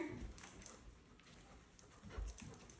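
A dog in board-and-train obedience training whimpers and pants softly, faint and intermittent against outdoor background noise, with a couple of low thumps.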